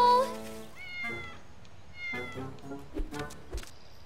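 A cat meows several times up close, a drawn-out high meow followed by shorter cries, with people talking over the cat.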